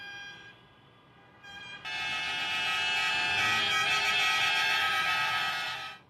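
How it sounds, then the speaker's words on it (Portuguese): Truck drivers in a protest horn blast through city streets of Goiânia, with a loud sustained chorus of truck horns swelling after a quieter start and holding steady nearby before cutting off. "No fim da tarde, caminhoneiros fizeram um buzinaço na capital."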